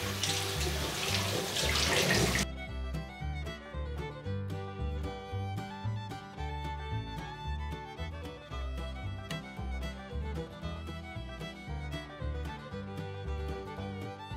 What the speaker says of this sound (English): The bin is made from a cloth which can be easily cleaned in running water.